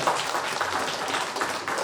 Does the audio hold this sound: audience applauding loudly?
yes